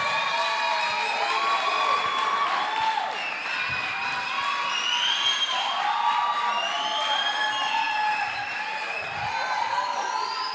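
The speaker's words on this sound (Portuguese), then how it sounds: "Você pode aplaudir a Jesus aí pela vida do Brian?" A church congregation applauds and cheers, with clapping, scattered whoops and shouts forming a steady, lively wall of crowd noise that holds for about ten seconds.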